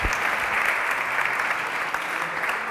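Audience applause at a port-logistics hackathon in Valencia: a dense, even wash of many hands clapping that holds steady throughout, moderately loud with no voices over it.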